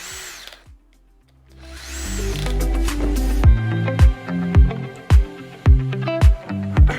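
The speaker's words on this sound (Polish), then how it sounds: "Dwa zwykłe zawiasy na 90 stopni, wkrętarka, składamy zawias." A cordless drill driver drives screws to fit two ordinary 90-degree hinges onto a wooden cabinet. The motor whirs in loud bursts, then several short, regular screwing pulses follow close by, with no talk.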